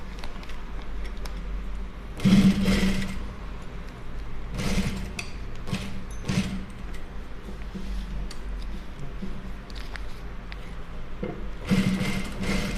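A sewing machine stitches a neck design on fabric in short loud runs of rapid rattling, separated by quieter stretches of low motor hum and handling of the cloth.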